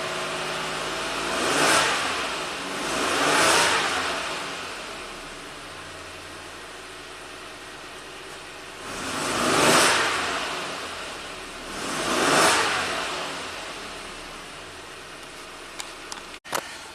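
A 1990 Buick Regal V6 with a severe low-power fault runs to warm up, holding a steady idle broken by four swelling revs, with a few sharp clicks at the very end.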